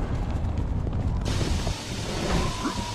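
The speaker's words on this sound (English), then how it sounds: "What is causing these explosions of ice?" Icy explosions burst in Sly Cooper: Thieves in Time, a dense, loud rumbling roar that shifts partway through into brighter crackling debris, with no talk over it.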